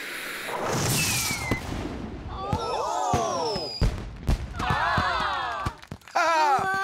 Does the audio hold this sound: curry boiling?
no